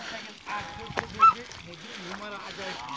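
Geese on a farm honk and call, several birds in a ragged, overlapping chorus nearby, with a voice speaking partly underneath.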